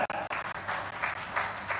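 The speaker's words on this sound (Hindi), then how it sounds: "जोरदार ताली बजाओ" Crowd applause at a Chief Minister's public rally in Chitrakoot, India, rising in waves of clapping across a large gathering, moderately loud and steady throughout.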